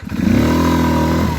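A Kuba Viptrack 250 motorcycle engine revs up hard and holds a loud, steady roar as it pulls away quickly, close by.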